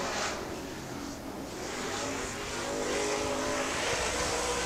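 A late model race car laps the track during qualifying, a steady broadband engine roar holding at a distance with a slight swell toward the end, no voices.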